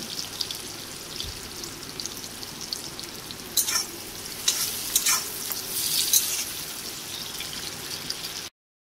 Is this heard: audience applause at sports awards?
no